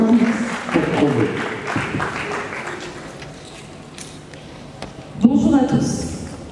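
Audience applause at a literary-prize debate, a dense clatter of clapping that swells at the start, fades through the middle and returns in a fresh burst near the end, with speech mixed in.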